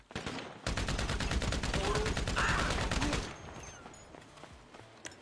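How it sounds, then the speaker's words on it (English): Rapid automatic gunfire rattles in a Fortnite match, a dense sustained burst of evenly spaced shots for about two and a half seconds, then fading to quieter game ambience with a few distant shots. "I'm being shot at"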